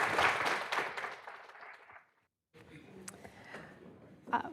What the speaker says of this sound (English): a round of applause for Robert Pandiscio